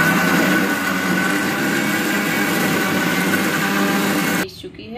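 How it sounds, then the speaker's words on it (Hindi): A loud, steady electric mixer grinder whirs and grinds tomatoes continuously for several seconds, then cuts off abruptly near the end. "सबसे पहले हम लोग जार में टमाटर को पीस लेंगे।"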